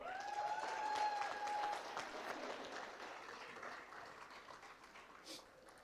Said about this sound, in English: Please give a round of applause to the beautiful bride.